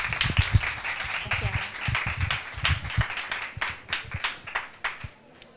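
Audience applause at a book presentation during the Murcia book fair, scattered clapping in bursts that rises and thins out, fairly faint, mixed with some murmured talk.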